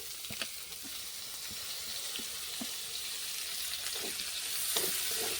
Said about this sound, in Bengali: আর যে পেঁয়াজটা কেটে রেখেছিলাম ওই পেঁয়াজটাই তেলে ভেজে নেব